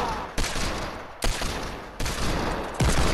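Gunfire from an online shooter video game: four sharp bursts of shots, each striking abruptly and trailing off, spaced roughly a second apart, loud and close without any voices.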